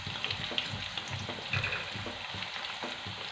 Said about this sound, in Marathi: तर लसूण छान आपल्याला लाल रंगावरती परतून घ्यायचा.